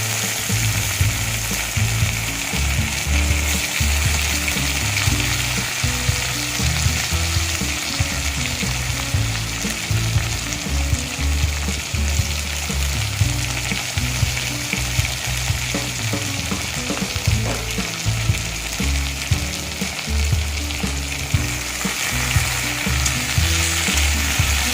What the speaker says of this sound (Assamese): আলুখিনি অকণমান ফ্ৰাই কৰি ল'ব।